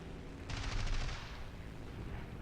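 Aircraft guns fire in War Thunder, a short rattling burst of rapid shots over the steady drone of the cockpit, fairly faint and fading after about half a second.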